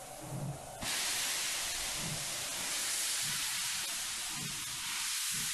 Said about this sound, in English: That's a train, all right.